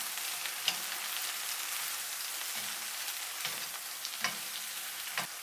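Seafood rice noodles being stir-fried with sugar, soy sauce and oyster sauce, a steady close sizzle with a few sharp clacks of the utensil against the pan.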